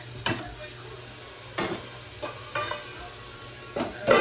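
Food sautéing in a pan in a home kitchen, a steady low sizzle broken by several sharp stirring scrapes and taps of a spoon against the pan, close by, with no talking.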